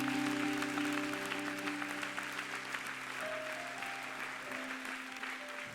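A church congregation applauds steadily for several seconds during an evangelistic service, a dense, moderately distant clapping with sustained tones from instruments or a keyboard underneath.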